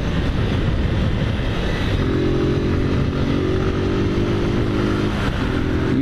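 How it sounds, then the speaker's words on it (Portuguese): A motorcycle ridden through town toward Várzea Paulista roars loudly and close, its engine note climbing as it accelerates, over constant wind and road noise with no speech. "Vamos acelerar a motoca."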